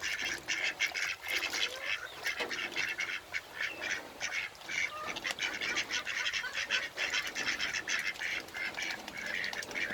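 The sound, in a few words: duck quacking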